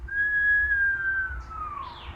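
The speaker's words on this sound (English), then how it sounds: "So we inhale and we whistle if you can" A steady inhaled whistle during a Kundalini breathing exercise, held as one long thin tone for over a second before sliding downward and fading, quiet and close.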